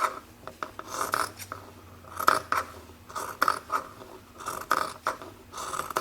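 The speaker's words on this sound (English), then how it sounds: "you're just going to take your scissors and just cut them out" Scissors snip repeatedly through patchwork skirt fabric in short crisp bursts with brief pauses between cuts, close and fairly quiet, no voices.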